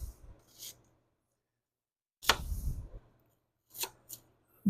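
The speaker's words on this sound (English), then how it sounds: "slice the onion" A knife slices through an onion on a board for baked beans, giving a few separate crisp cuts with short pauses between them, close and fairly quiet, with no talking.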